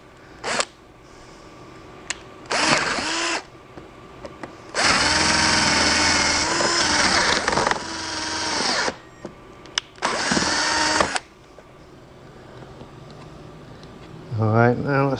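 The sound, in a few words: cordless drill boring large bit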